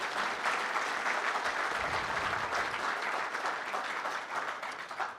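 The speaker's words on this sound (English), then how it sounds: "So can I have a big applause for them?" Audience applause at an opening event, a dense sustained wash of many hands clapping, steady and fairly distant, without any voices rising above it.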